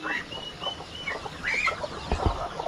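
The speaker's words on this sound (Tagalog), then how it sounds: "May mga siso pa tayo dito ng manok." Chicks and chickens cluck and peep close by, with high chirps scattered over a low murmur of background noise.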